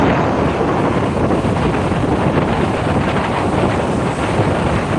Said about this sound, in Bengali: আওয়াজে তারা আপনারা অবশ্যই বুঝতে পারছেন প্রত্যেকে যে কতখানি ঝড় হাওয়া বইছে